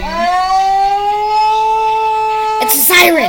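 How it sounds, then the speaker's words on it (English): A wailing siren holds a steady rising-and-falling tone, loud and close, then breaks off into a burst of noisy clatter near the end, with no talking over it. "It's a siren"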